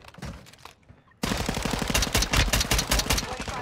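Gunfire in Warzone 2 Resurgence on Ashika Island, starting with a few scattered shots, then a sudden loud burst of rapid automatic fire that keeps rattling in close, dense volleys.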